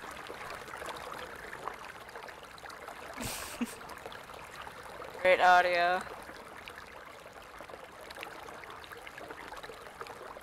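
Water running in the video game Caligo, a steady soft trickling stream that continues under talk, with a brief louder gurgling splash partway through.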